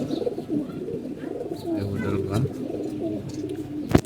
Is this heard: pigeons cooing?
yes